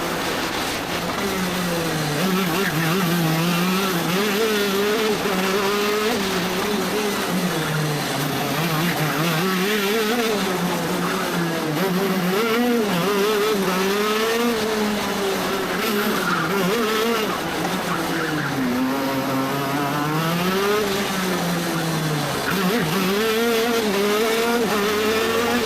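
KZ kart lapping Herefordshire Raceway flat out, its high-pitched two-stroke engine screaming continuously close by, pitch rising and falling through gear changes and corners for the whole lap.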